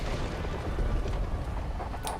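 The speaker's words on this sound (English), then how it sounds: "Random rain of fire." A rain of fire spell from the online game Wizard101 roars as a dense, steady rumbling whoosh of burning fire and blasts, loud and continuous throughout, with no talking over it.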